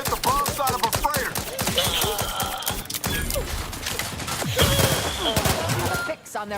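Rapid gunfire crackles through a firefight in The Outer Worlds 2, with dense bursts of shots over the first few seconds, a short lull, then another heavy volley; voices and a game score sit under the shooting.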